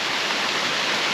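A small waterfall high in the mountains near an abandoned slate works, close by and rushing as a steady, dense broadband wash of falling water with no voices.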